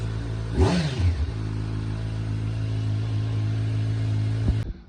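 Kawasaki Z900 motorcycle engine idling close by, with a quick rev that rises and falls early on, then a steady idle rumble until it cuts off near the end.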